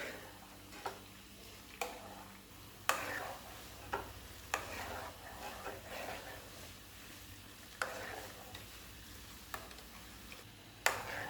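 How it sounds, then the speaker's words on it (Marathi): Buffalo-milk ghee being stirred in a kadhai, a low simmering hiss broken by irregular sharp metallic scrapes and taps of a ladle against the pan, close and quiet, no voices. "हलवायचं आहे हलवलं की कढईला ते लागत नाही"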